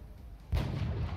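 A single loud sniper rifle shot fired in the turn-based strategy game XCOM: Enemy Unknown, a sudden booming report that lingers with a broad rumbling tail, heard alone with no talking.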